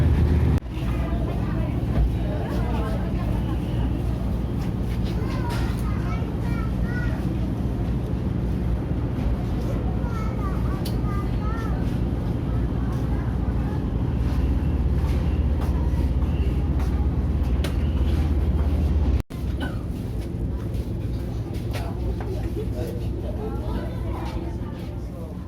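Steady low engine rumble aboard the Balikpapan–Penajam ferry, continuous and fairly loud, with faint voices and background activity over it and a brief dropout near the end.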